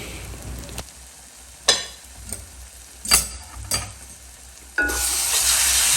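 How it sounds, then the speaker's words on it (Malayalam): Beef roast is stirred in a pan for a Kerala-style dish, with intermittent scraping strokes over a soft sizzle, followed by louder steady frying hiss near the end. "നന്നായി ഒന്ന് കുറച്ചും കൂടി ഇളക്കി കൊടുക്കുക."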